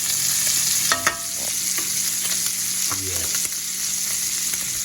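Scallops frying in unsalted butter and fresh bacon grease, a loud, even sizzle throughout with a couple of brief clinks and scrapes from the pan.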